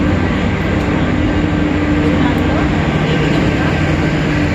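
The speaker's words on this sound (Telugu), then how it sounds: "రైలు అనేది స్టార్ట్ అవ్వడానికి స్టార్ట్ అయిపోయింది." A passenger train starts to move at Guntur railway station, making a loud, steady rumble with a constant hum throughout, while a voice speaks briefly over it.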